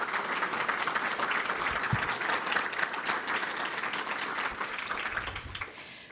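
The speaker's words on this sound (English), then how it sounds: "let's give the staff a round of applause for all of the hard work." Sustained applause from a large audience at a national security conference's opening session, a steady dense wash of clapping that holds for several seconds before tapering slightly.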